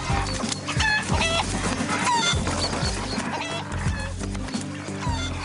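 Backyard hens cluck in a coop, a dense, continuous chorus of overlapping clucks and squawks close by, loud and busy throughout with a low rhythmic backing underneath.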